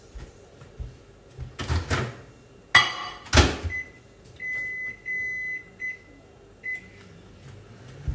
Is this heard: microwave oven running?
yes